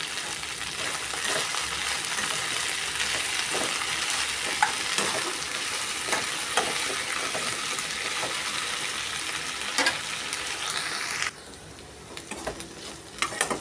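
Okra frying in a pan, a dense continuous sizzle with occasional spatula clinks and scrapes, close and steady, dropping quieter near the end, with no voices.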